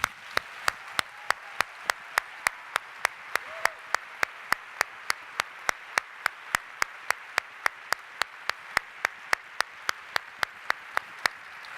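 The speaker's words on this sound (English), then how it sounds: "it would be nice if we could all give Alicia another round of applause" An audience gives a round of applause at a keynote event, heard as a steady run of sharp, evenly spaced claps with a light background murmur.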